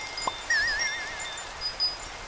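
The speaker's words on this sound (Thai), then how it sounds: "นี่เลยค่ะเสียงกระดิ่งลม" Wind chime tinkling in the Engineer's Life Minecraft modpack, light high chime tones ringing and wavering alone for a couple of seconds over a soft background hiss.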